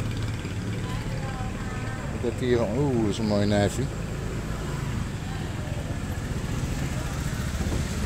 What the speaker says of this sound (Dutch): Die toektoeks, ik haal er zo van. Het geluid alleen nog van die motoren.